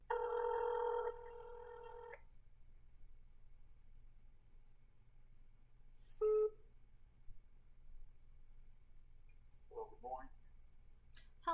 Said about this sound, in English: I'm gonna call this phone number.